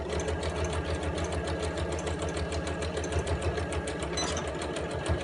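A sewing machine runs steadily, stitching back and forth over the pocket seam of a fabric tablet case, its fast mechanical rhythm loud and continuous throughout with no talking.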